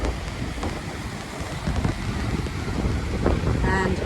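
Wind gusts across a coastal walking trail on the Cape to Cape track heading toward Hamlin Bay, a broad rushing roar with microphone buffeting that rises and falls, and faint voices at moments.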